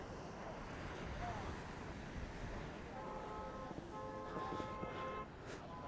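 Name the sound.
sea waves surging at Tajpur beach near Digha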